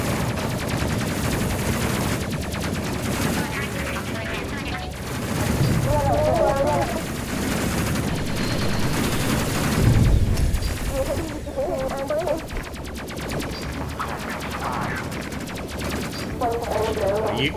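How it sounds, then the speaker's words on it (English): Gunfire in a space combat video game, with bursts of automatic weapon fire and blasts rattling on throughout under background game effects and occasional talking. "Okay, Martin, you also focus fire, please."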